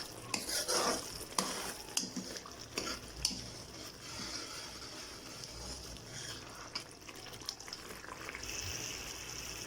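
Tandoori chicken marinade cooking in a pan, a quiet, close sizzle and bubbling with irregular clicks and scrapes of a spoon stirring, no talk.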